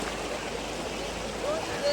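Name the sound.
river water flowing during crossing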